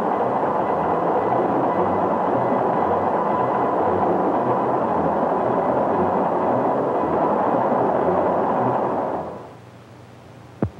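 A train rolls steadily along the rails in a 1955 film, giving a continuous rumbling roar that fades to a quieter background near the end, where a single sharp click is heard.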